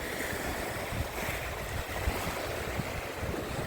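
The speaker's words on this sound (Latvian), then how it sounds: "Jūra ir." Sea waves washing onto the shore beside a drainage ditch outlet, a steady broadband wash with wind buffeting the microphone, continuous and fairly loud with no one speaking.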